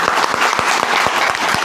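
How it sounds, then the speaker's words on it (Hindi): Audience applause filling a hall at a wellness business event, dense steady clapping from many hands sustained throughout, close and loud with no talk over it. "एक बार गिद्धेश्वर सर के लिए बढ़िया वाली ताली जरूर होनी चाहिए"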